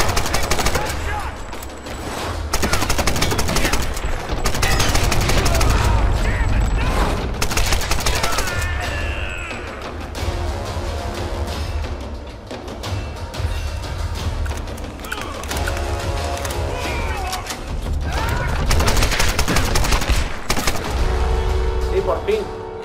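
Machine gun fire and heavy gunfire in the 2013 Tomb Raider video game, with loud, dense bursts running almost continuously and blending with game sounds and music while a player talks.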